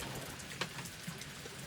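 Soft, steady rain pattering on a deck overhead, faint and continuous, with a few slightly louder drips standing out.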